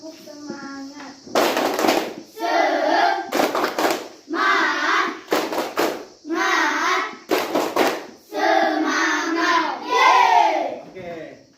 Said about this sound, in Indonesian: Ayo kita berikan tepuk semangat.